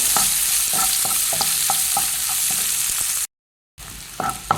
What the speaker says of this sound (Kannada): ಇವಾಗ ಒಂದು ನೀರುಳ್ಳಿ ಕಟ್ ಮಾಡಿ ಇಟ್ಕೊಂಡಿದ್ದೇನೆ, ಅದನ್ನು ಹಾಕ್ತೇನೆ. ಅದನ್ನು ಹಾಕೊಂಡು ಸ್ವಲ್ಪ ಫ್ರೈ ಮಾಡಿಕೊಳ್ಳುವ.